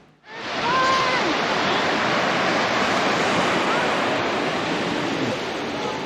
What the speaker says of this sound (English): And there is the ocean and beach just right over there.